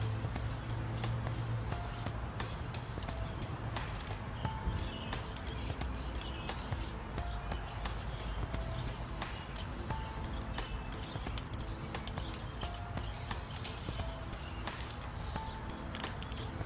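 Rust-Oleum tire shine sprays onto a tire in a continuous close hiss across the whole stretch, steady and loud with no talk.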